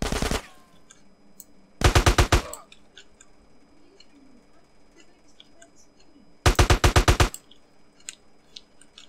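Automatic gunfire in Grand Theft Auto: San Andreas, heard as three short rapid bursts of evenly spaced shots, loud and close, separated by quieter stretches of game ambience.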